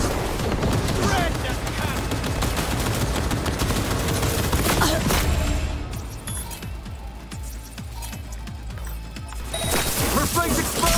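Heavy gunfire from a Panzer turret in a combat scene in Cyberpunk 2077, with rapid dense bursts and clattering impacts over loud battle noise, a brief lull, then more shooting, with voices shouting at times.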